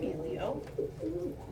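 Pet birds waiting their turn at treat time give low cooing and warbling calls in short bursts, close and moderately loud, with a person talking quietly among them.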